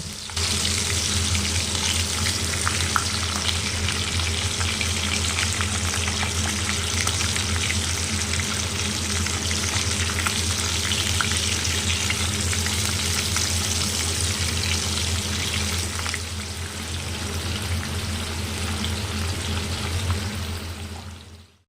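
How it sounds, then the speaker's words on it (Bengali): Fish sizzle and crackle in hot oil in a pan after bitter gourd has been fried, a steady, dense frying hiss that continues without a break from start to finish at close range, with no voices. "এই যে করলা ভাজার পর এখন মাছগুলো ভেজে নিচ্ছি"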